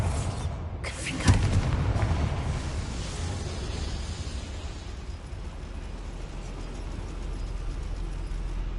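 The Confringo fire spell explodes in Hogwarts Legacy, inside a goblin mine, with a sharp blast followed by a deep, rumbling roar that fades slowly into a steady low rumble.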